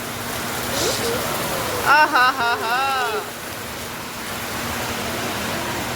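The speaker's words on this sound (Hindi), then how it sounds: "एकदम से इतनी तेज बारिश की आवाज़ आई" Heavy rain pours down in a sudden downpour, a dense, continuous hiss of falling water close by, while a voice speaks briefly over it.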